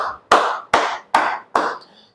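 Single hands clap four times at a steady, unhurried pace, each crisp and close with a short ringing decay, after a softer sound at the start.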